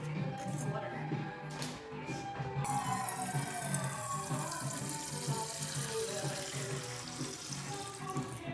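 A tap runs steadily, filling water for a cat while traveling, a continuous close splashing stream that carries on for several seconds.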